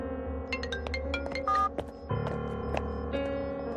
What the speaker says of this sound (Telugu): రింగు వెళ్తుందయ్యా